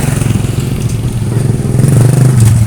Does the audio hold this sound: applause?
no